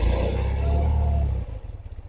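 A 1989 BMW R80GS Paris Dakar flat-twin motorcycle engine runs loud and close with a steady rumble, then drops after about a second and a half to a slower, lumpy thumping.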